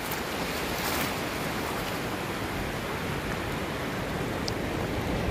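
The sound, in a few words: beach waves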